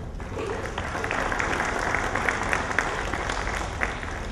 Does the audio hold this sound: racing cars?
no